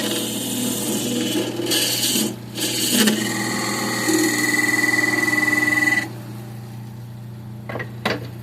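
A small cedar urn is sanded by machine in a steady rasping whir that runs for about six seconds and then stops, with a few brief knocks afterward.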